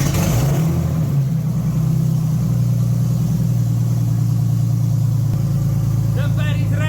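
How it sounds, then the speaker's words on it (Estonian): A car engine with a damaged, loud exhaust starts and runs, a deep, rough rumble holding steady close by and drowning most else, with a voice speaking over it near the end. "paneme selle auto käima, siis kohe kuulete, mis lärmi see teeb"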